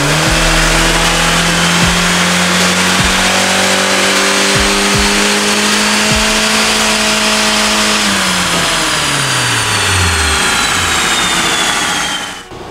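A car on a dynamometer makes a base pull on factory engine programming. The engine climbs steadily in pitch to a loud, strained high rev, then lifts off and winds down quickly.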